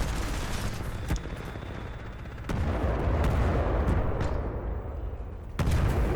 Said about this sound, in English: Oh man, we just sat on those grenades.